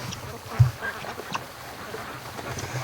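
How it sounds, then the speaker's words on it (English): Free-range ducks at a lake give a few short, sparse quacks, one louder nasal call near the start and fainter ones after, over quiet outdoor background. "All right, the ducks are at the lake."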